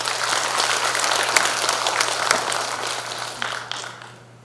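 Sustained applause from party members at a Democratic Party regular delegates' convention in Jungnang, dense clapping filling the hall steadily for several seconds before tapering off slightly at the end.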